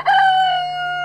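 A single loud rooster-like crow rings out close by, a sustained tonal call that slowly fades over about a second.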